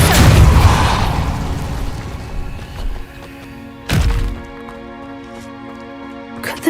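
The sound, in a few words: Incendio fire spell being cast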